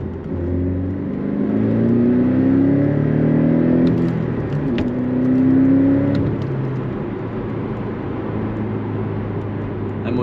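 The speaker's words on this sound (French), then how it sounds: "Je vais encore vous faire également écouter le son du véhicule une dernière fois." A Porsche 718 Cayman GTS 2.5-litre 365 hp engine with manual gearbox revs and drones at close range, pitch climbing in long sweeps then settling into a steady rumble, with no voices.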